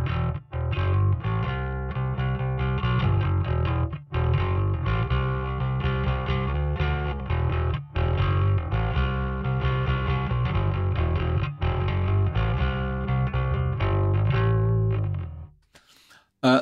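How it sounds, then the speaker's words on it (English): A bass guitar plays through a Kemper Profiler with its distortion at maximum, giving a thick, overdriven tone like a tube screamer. A steady run of notes with brief gaps cuts off sharply near the end. "At maximum value, the distortion characteristics mimics those of a tube screamer"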